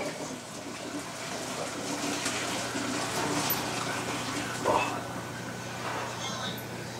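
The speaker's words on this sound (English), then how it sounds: "draining that there like that" Water drains from a pot of Yukon Gold potatoes into a kitchen sink, making a steady rushing pour with a low hum underneath and one brief splash near the end.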